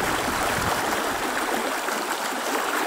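Water of the Razdolnaya river near Pokrovka rushes steadily, a dense continuous hiss and gurgle close by with no voices.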